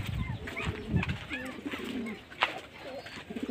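Racing pigeons coo at the loft while being fed, soft repeated throaty coos close by over a busy background murmur of birds.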